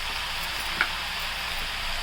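Vegetable and paneer pieces go into a hot pan all at once for a mixed curry, producing a steady, dense sizzle of frying with one brief soft clink partway through.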